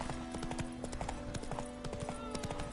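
A horse in The Witcher 3 trots with steady clip-clopping hooves, a quick rhythmic run of close, crisp knocks over a faint background hum.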